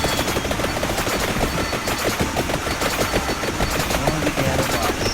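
A magic gun in the video game Vampire Survivors fires a rapid, unbroken stream of sharp crackling shots over a busy, noisy game background, loud and close throughout.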